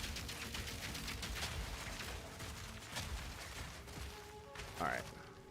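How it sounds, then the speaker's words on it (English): A grenade blasts in Path of Exile 2 combat, one short burst near the end rising above a busy wash of gunfire, turret shots and clattering game effects. "Little grenade in there."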